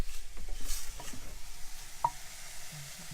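Pork stir fry sizzling in a pan, a faint, steady frying hiss with soft scattered clatter and stirring knocks, heard quietly at close range.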